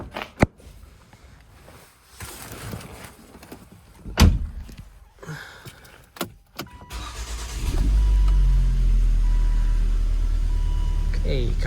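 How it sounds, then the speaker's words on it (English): A 2.0 petrol Volvo V50 is started after a few clicks and thunks inside the car. The engine catches and settles into a steady, close idle. "Okay, car starts fine,"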